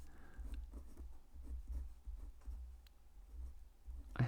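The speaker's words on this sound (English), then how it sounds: "let me just write this for sine" Chalk or marker writing out a sine function on a board in a lesson on transforming graphs: soft, faint scratchy strokes and light taps in short irregular bursts, close but quiet.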